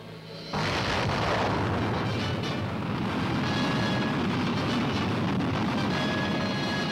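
A Minuteman solid-propellant missile fires in a restrained launch test at Edwards Air Force Base, bursting in abruptly after a brief lull into a loud, sustained roaring rumble that holds steady to the end.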